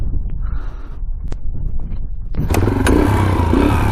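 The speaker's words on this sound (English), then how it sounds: "Start her first kick again." A dirt bike engine kick-starts after a brake repair, with a few mechanical clacks from the kick before the motor catches and settles into a loud, steady idle close by.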